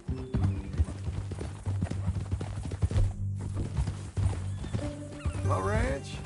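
Horse hooves clip-clop steadily through a video game scene, close and rhythmic under a music bed and spoken dialogue, with a brief horse whinny near the end.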